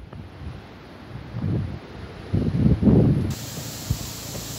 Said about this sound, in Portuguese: Repara como estava ventando bastante aqui.